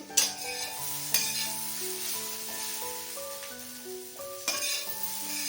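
Bottle gourd dumplings sauté in a pan with a steady sizzle, a few sharp clatters of a spoon stirring against the metal, and a melodic music track playing throughout.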